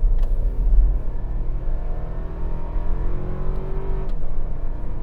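A rear-wheel-drive 2025 Toyota 4Runner SR5 accelerates hard from inside the cabin, a steady loud engine drone rising in pitch over a deep road rumble, with no talking.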